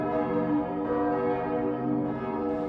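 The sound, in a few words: church bells of Saint-Flour cathedral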